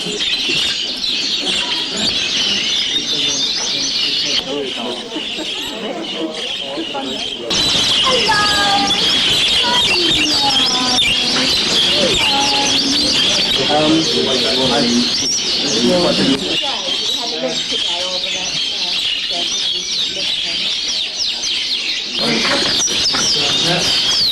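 Many birds coo and chirp continuously at an indoor bird show, a dense, loud chorus of pigeon- and dove-like calls with people talking throughout.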